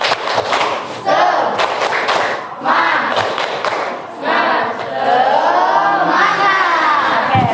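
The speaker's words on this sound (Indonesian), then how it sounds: "kita tepuk semangat dulu lah. 1, 2, 3, tepuk semangat." A classroom group of students performs a rhythmic spirit clap chant, loud rounds of clapping and shouted voices in bursts with short pauses between them.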